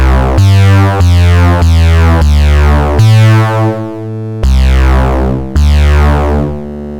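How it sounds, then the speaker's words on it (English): Moonmate synthesizer plugin producing a loud, thick chiptune bass, a series of bright buzzy notes with falling pitch sweeps, played alone in quick succession with a short gap near the middle. "This is Moonmate, and this is what I use for some of the basses. It's really loud and really thick."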